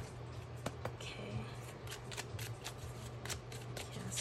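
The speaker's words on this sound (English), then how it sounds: "my shuffling is really terrible." A deck of tarot cards being shuffled by hand gives off a steady papery riffle with sharp, irregular flicks, close and fairly quiet over a low background hum.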